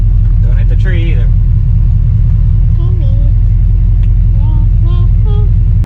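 A truck engine rumbles loud and steady throughout a test drive on a tight path past a mower and a tree, with voices talking over it; the truck has a shifting fault.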